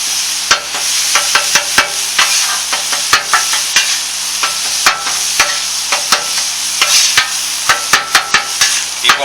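A metal spatula chopping ground meat on a hot griddle for a chopped cheese sandwich, with rapid, irregular sharp clacks over a steady sizzle, close and loud.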